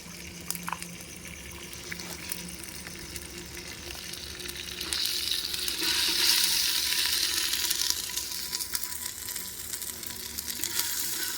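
Masala spices frying in a pan during mutton cooking give a continuous sizzle that swells louder midway, then settles, with faint clinks; no talking.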